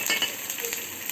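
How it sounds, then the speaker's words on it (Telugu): Garlic frying in hot oil for a tempering, with chopped garlic browning in the pan; a steady, close sizzle with a bright hiss that holds evenly across the short moment, no voices. "వెల్లుల్లిపాయలు ఎర్రగా వేపుకోవాలి"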